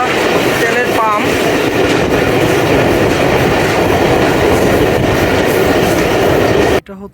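A Pakistani express train runs through Balochistan with a loud, steady rumble and clatter of wheels on rails heard from aboard, then cuts off abruptly just before the end.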